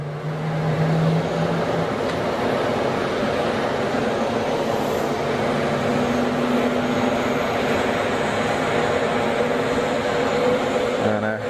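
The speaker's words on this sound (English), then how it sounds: "we've got 319 in from Barcelona" An Airbus A319 airliner arriving from Barcelona roars in a broad, steady jet rumble at an airport, loud and sustained with a low engine drone throughout.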